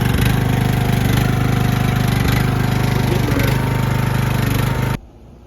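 The small engine of a cheap lawnmower runs loud and steady at a constant rumbling idle for about five seconds, then cuts off abruptly.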